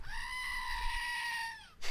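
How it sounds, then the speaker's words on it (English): A single drawn-out goat scream plays as a sound effect, a sustained nasal bleating cry held for nearly two seconds before cutting off abruptly. "Andy, can I get a goat scream, please?"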